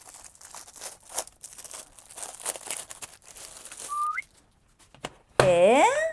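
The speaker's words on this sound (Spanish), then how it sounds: "Y le voy a quitar también el plástico, claro." Plastic wrap is peeled and torn off a HyperX gaming keyboard, close, crinkly rustling in bursts, with a short whistle partway through and a loud tonal sweep at the end.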